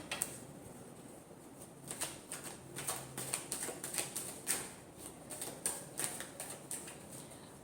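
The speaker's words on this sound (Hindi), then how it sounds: "Last shuffle." Tarot cards are shuffled softly, producing faint, scattered flicks and light clicking taps in irregular bursts, quiet and close.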